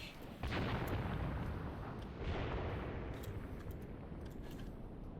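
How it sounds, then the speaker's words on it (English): Artillery barrage in the war game Graviteam Tactics, with loud, dense rumbling booms and distant blasts rolling continuously, one heavy burst near the start and another around the middle. "Big guns opened up straight away."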